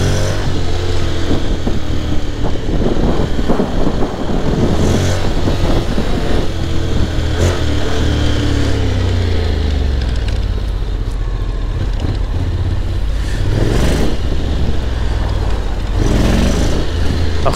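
A Honda X-ADV scooter revs hard as its rear wheel spins and slips on take-off. The engine drones loudly and steadily, surging at intervals, with wind rushing across the microphone.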